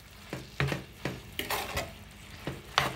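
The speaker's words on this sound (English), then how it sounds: "We're just going to mix this up." A spoon stirs a food mixture in a pan while making garbage bread, giving a series of scraping clinks and soft sizzling scrapes in an uneven rhythm, close and moderately loud, with no voices.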